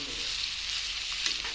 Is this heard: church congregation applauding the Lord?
no